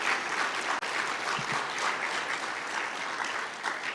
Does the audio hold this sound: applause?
yes